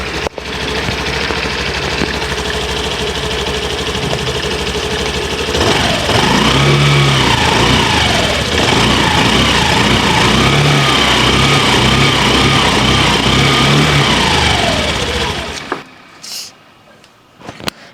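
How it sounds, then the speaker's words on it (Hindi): A Honda Activa 125cc scooter engine runs loud and close, idling steadily, then revving up and down a few times before cutting off. "यहाँ पर एक 125 सीसी का इंजन मिलता है। पहले आवाज़ सुनिए एक बार।"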